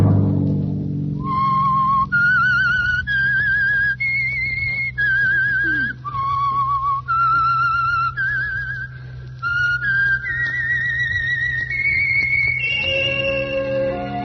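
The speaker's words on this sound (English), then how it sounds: "Let that whistle be your signal for the Signal Oil" A radio show whistle sounds a series of sustained, steady notes that step up and down in pitch over a low drone, ending on deeper tones.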